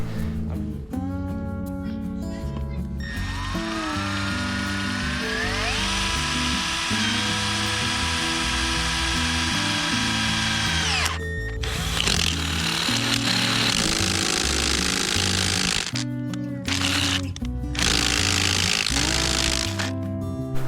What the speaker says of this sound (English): So now I'm gonna go ahead and drill and see what happens